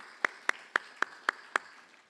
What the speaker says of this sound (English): let's give another round of applause to our three honorees today